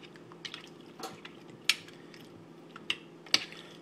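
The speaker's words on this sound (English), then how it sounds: "Just go ahead and give this a quick stir" A spoon scrapes and clinks against a pot of low carb broccoli and cheese soup, giving a few sharp metallic taps among soft stirring, fairly quiet overall.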